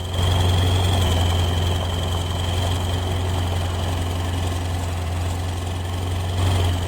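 A truck engine idles steadily with a deep, constant low rumble and a faint high whine, running unbroken and fairly close throughout.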